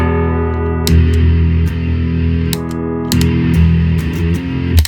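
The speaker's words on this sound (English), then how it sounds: "when you kick on your distortion, you want it to sound ferocious" Heavily distorted electric guitar through a Master Shredder Doom Beast distortion pedal plays chunky chords with short pauses between them, loud and saturated, with a buzzing, ferocious edge.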